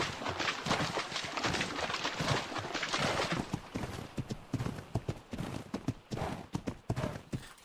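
Horse hooves clip-clop steadily in ARK: Survival Evolved gameplay on Ragnarok, a fast, continuous run of close hoofbeats over a dense game soundscape.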